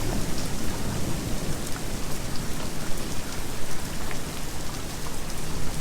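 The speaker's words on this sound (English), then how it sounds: "But this is definitely a nice storm." Steady, dense rain from a severe thunderstorm pours down without a break, a close, even hiss and patter that holds loud throughout with no voices.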